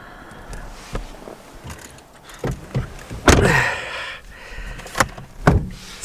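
A car door thumps shut amid scattered knocks and rustles, with one louder slam in the middle and a few softer thuds around it, close by and without talk.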